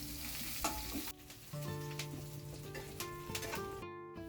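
Green chillies fry in a pan for fried rice, a steady close sizzle with scraping stir sounds and a few light clinks, the frying dropping briefly partway through.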